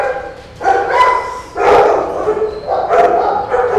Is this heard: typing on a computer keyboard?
no